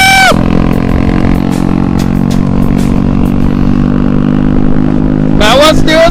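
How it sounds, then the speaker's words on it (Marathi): A Mahindra Duro scooter running at a petrol pump, its engine and exhaust giving a loud, steady close drone throughout, with brief bursts of voices at the start and end. "तर महिंद्रा ड्युरोचा आवाज ऐका."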